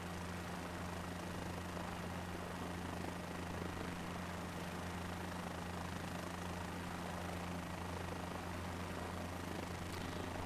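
Helicopter in flight in Microsoft Flight Simulator 2024, a steady continuous rotor and engine drone with a low hum, constant in level throughout with no talk.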